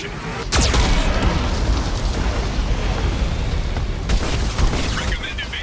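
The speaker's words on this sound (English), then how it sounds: "Warning, Geth cannon is locking on our location." Heavy booming blasts from a Geth cannon in the video game Mass Effect 2, a loud continuous roar of explosions with sharp bursts near the start and again later, no talk over it.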